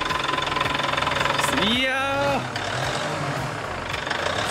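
A new Mitsubishi Fuso Canter dump truck idling with a rough diesel knock while its bed is raised, engine pitch rising then falling back, close and steady, with someone speaking briefly over it.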